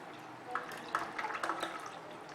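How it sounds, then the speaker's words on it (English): Chilled water is poured over about one tray of ice cubes, giving a close run of splashing, trickling and crackling drips that rise and fall over a couple of seconds. "we are going to pour cold water, chilled water in this ice"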